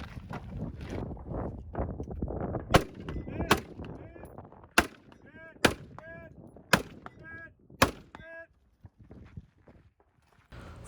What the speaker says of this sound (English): From this first rifle position, I have to engage 6 hanging steel targets at about 90 yards.